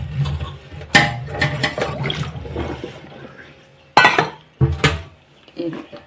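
A vessel is washed by hand, with sharp metallic clanks and clatters of dishes at irregular intervals and some splashing water between them.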